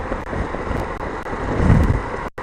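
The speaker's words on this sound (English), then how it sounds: "It's really windy out here" Strong wind buffets a microphone outdoors in gusty low rumbles and swells, with a brief dropout near the end and no talking.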